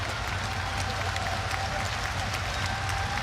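Fight fans in an arena in Antwerp at a GLORY 94 kickboxing event applaud steadily, a dense, even wash of clapping throughout with faint crowd murmur beneath.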